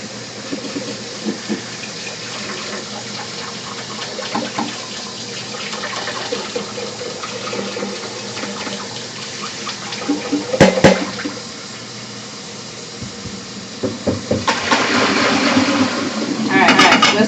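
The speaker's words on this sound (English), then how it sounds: "Washing these bowls out." Water runs steadily into a kitchen sink as mixing bowls are rinsed out after making gingerbread cookies, with clinks of the bowls and a louder gush of running water near the end.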